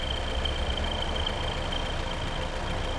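A car engine idles steadily during a phase sensor test, a constant low rumble with a faint high whine, continuous and close with no pauses.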